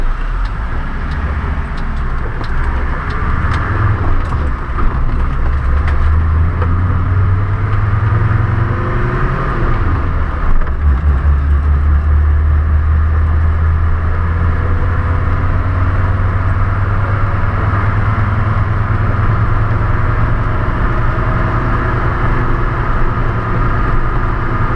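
Engine of a 1983 military Mercedes Geländewagen drives along, rising and falling through gears with audible rev climbs and shifts, then settling into a loud steady drone under road and wind noise for about twenty-five seconds.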